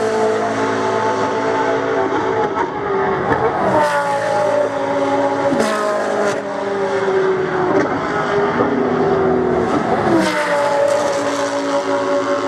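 Lamborghini Huracan race cars of the Super Trofeo series at Silverstone circuit roar past one after another, engines revving and shifting gears with loud drive-by surges and a constant racing drone, no speech.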